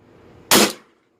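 A single sharp shot from a MILSIG First Strike FSC paintball pistol powered by a 12 gram CO2 cartridge, loud and close, cracking out once after a quiet moment and fading over a short tail.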